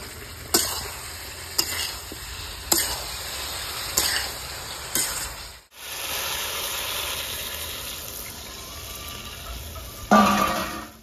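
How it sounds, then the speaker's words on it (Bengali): Potatoes and cauliflower stirred and sautéing in a thick gravy in a hot pan, spoon scrapes knocking at irregular intervals over a steady sizzle, followed by a sharper hiss near the end. "ভালো করে একটু কষে নেবো গ্রেভির সঙ্গে।"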